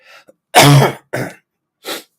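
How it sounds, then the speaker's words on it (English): A person coughs during an informal live chat: one short throat-clearing sound, then two harsh, close cough bursts and a final softer cough, with silence between them. "Oh dear, I've coughed again."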